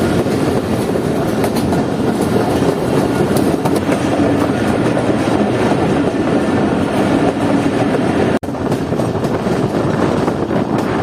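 Jaffer Express passenger train hauled by three engines, running steadily with a continuous loud rumble and rattling wheel-on-rail clatter, heard from aboard with wind noise and a brief dropout near the end.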